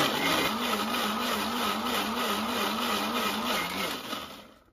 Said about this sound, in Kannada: ಹಾಗಿದ್ರೆ ಬನ್ನಿ ನಾವೀಗ ಇದನ್ನ ಮಿಕ್ಸರ್ ನಲ್ಲಿ ರುಬ್ಬಿಕೊಳ್ಳೋಣ.